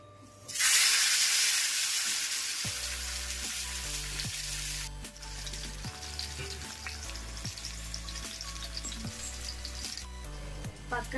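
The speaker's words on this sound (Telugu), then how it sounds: "పదిహేను నిమిషాల తర్వాత ప్యాన్ తీసుకొని ప్యాన్ మీద మ్యారినేట్ అయిన ఫిష్ని ఫ్రై చేయాలి." Marinated fish hits a hot pan with a sudden loud sizzling burst that settles into a steady, crackling fry, continuing beneath background music.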